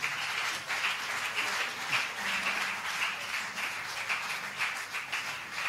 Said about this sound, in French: Acclamez pour eux alors qu'ils viennent.